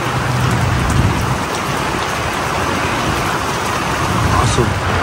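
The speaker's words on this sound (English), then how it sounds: "Now we're in a real heavy downpour, as you can hear." A loud, continuous downpour of rain hammers nearby surfaces at a campsite at Gamble Rogers State Park, Florida, thick and unbroken from start to finish.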